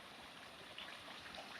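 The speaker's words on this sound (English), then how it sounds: "Beautiful little creek, and the water is actually clean compared to that last waterfall." A small, clean creek running through farmland makes a faint, steady rush of flowing water, soft and continuous for the whole short stretch.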